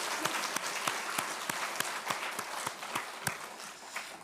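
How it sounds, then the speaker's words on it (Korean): A church congregation claps together, a soft wash of applause with regularly spaced louder claps standing out in a steady rhythm, moderately quiet and without speech. "그 은혜에 하나님께 함께 영광의 박수를 올려드립시다"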